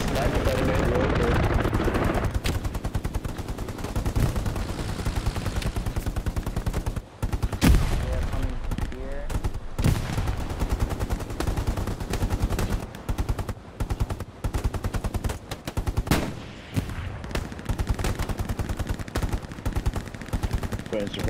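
Sustained gunfire rattles through a Hell Let Loose match, with dense machine-gun bursts and single rifle shots going off near and far. Players talk over the firing in places.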